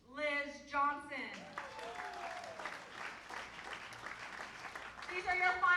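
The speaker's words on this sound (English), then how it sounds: "How about one more big round of applause for all of them?" Audience applause for finalists at a women's professional bowling tournament, the Wichita Open, rising as a steady patter of clapping beneath an announcer's amplified voice, with a whistle-like tone sweeping briefly near the start.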